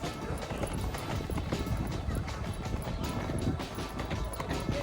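Horse hooves clip-clopping during a horse ride in Egypt, a steady, close patter of hoofbeats under continuous background noise, with people talking nearby.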